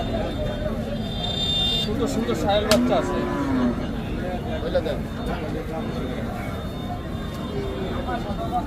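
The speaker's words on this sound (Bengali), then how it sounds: "গরুগুলো খুবই সুন্দর" Cattle low at a busy village livestock market, one drawn-out moo rising over a constant crowd babble, with people talking nearby.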